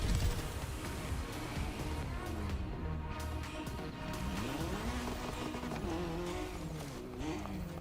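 A car driving in The Crew Motorfest video game, engine revving up and down with shifting pitch, tire squeals and a steady road rumble, loud and close with no talk.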